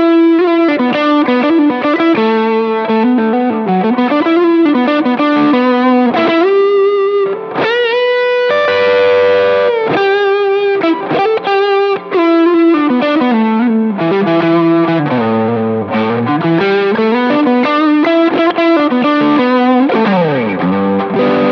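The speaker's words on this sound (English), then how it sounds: "I had the TS-9 going into the TS-808 this time, and the TS-9 just doing a very light overdrive, and then the TS-808 picking up more of the weight" Electric guitar runs through a TS-9 Tube Screamer set for light overdrive into a TS-808 Tube Screamer adding heavier drive, playing loud, continuous distorted phrases with sustained notes, bends and chordal passages and no talking.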